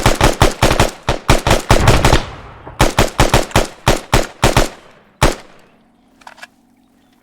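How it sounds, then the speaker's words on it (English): Rapid rifle fire from a Marine platoon keeping up a Mad Minute drill during training cracks loudly and close in dense bursts, overlapping shots with a brief gap, then slows to single reports and fades. "Keep on shooting, keep on shooting."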